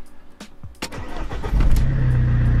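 A Fiat Multipla cold-starting: a few clicks and a short cranking whir, then the engine catches and settles into a loud, steady close idle, with no talking.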